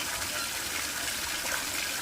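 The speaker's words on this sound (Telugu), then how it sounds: "నల్లా ఇలా నీళ్ళన్నీ కింద పోతూ ఉంటాయి." Water from a bore tap gushes onto the ground in a continuous, fairly loud rushing flow that stays even throughout, with no talk over it.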